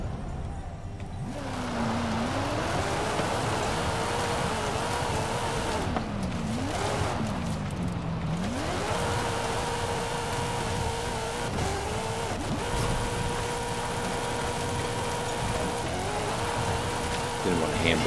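In the video game Forza Horizon 5, a car drifts with the handbrake pulled: the engine revs rise and fall, then hold at a high whine, with tire noise and steady loud racing sounds throughout.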